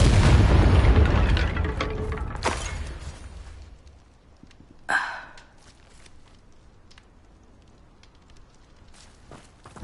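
A Confringo blasting spell explodes in Hogwarts Legacy with a heavy, close boom that rolls off over a few seconds, followed by a sharp smaller crack and quiet afterward.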